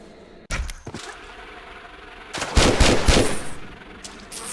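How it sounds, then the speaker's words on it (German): Gunfire in Tomb Raider III Remastered: a sharp shot, then a short pause before a loud rapid burst of automatic fire with heavy thumps, followed by another shot near the end. "Wie schnell hat sie jetzt geschossen?"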